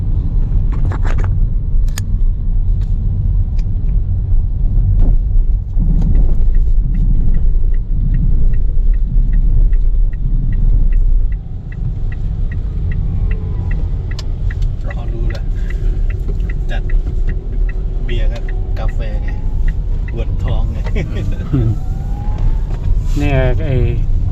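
Steady low engine rumble and road noise inside a vehicle riding from Sapa to Hanoi, continuous throughout, with a voice talking over it.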